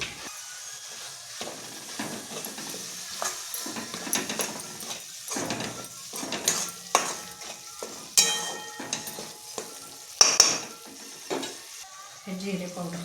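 Masala frying in oil while being stirred, a soft continuous sizzle broken by repeated scraping and clattering strokes of a spatula against the pan, some sharp and close.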